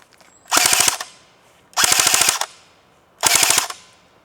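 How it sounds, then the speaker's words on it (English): An AGM MP40 airsoft gun fires a full magazine in three separate bursts of rapid, rattling full-auto shots, each lasting about half a second with short pauses between them, loud and close, with no voices. "you'll hear the noise of the gun anyway, and you'll see how long it takes to actually empty out"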